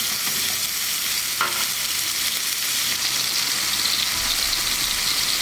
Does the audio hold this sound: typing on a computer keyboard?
no